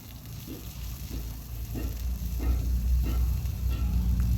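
Garlic paste frying in a kadai over a tempering of cumin seeds and green chilli, for a fish curry in coconut milk: a steady, close sizzle that grows louder, with regular stirring scrapes about every two-thirds of a second.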